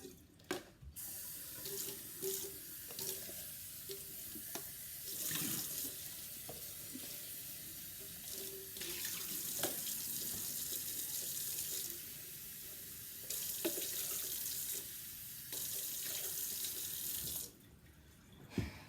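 Dyed fabric is rinsed under a running sink tap, making a quiet, continuous splashing stream with brief shifts as the cloth moves under the water.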